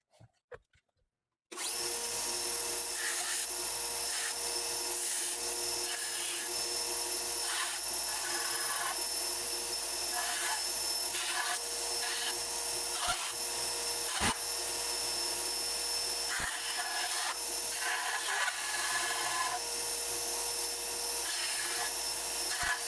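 A belt sander runs continuously on Kydex with a harsh, steady rasping hiss as the material is pressed against the belt, close and loud throughout.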